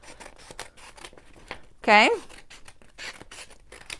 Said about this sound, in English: take your scissors and you're just going to cut that strip off